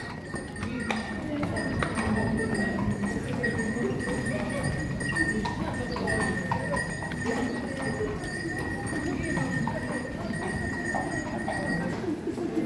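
Horse hooves clip-clop steadily on a stone street in Mdina, Malta, a continuous close rhythm running throughout, with birds cooing nearby and people talking in the background.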